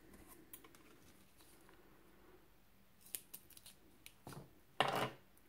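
Scissors snip while crafting a gift box with coffee beans, a few faint quiet clicks followed by a louder close cutting snip near the end.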